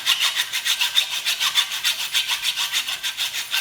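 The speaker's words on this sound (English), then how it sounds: "Now we can cut this one." A hand saw cuts through steel BMX bike handlebars clamped in place, loud and close, with quick, even back-and-forth rasping strokes about five or six per second and no voices.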